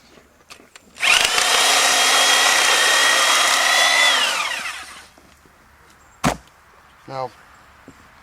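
A Sawzall reciprocating saw cuts through a hog carcass during processing, a loud steady buzzing run of about four seconds that winds down, followed later by a sharp knock and a brief low rattle.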